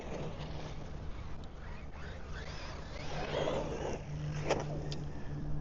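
Traxxas Maxx RC car motor whines and revs faintly in the background, swelling toward the end, with a steady tonal hum and no talking over it.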